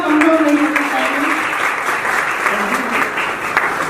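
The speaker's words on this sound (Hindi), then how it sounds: "आपकी तालियां कमजोर नहीं होनी चाहिए।" Audience applause at a state-level poetry and shayari competition in Shamli, a steady, dense round of clapping that fills the hall, with a voice speaking over it at the start.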